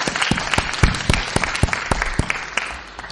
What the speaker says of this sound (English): I would request a big round of applause for the panelists here.